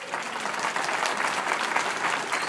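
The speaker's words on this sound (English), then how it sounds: "Give them a big round of applause." An audience at a gathering bursts into a big round of applause, a steady, dense wash of clapping hands at fairly low level that carries on evenly for a couple of seconds.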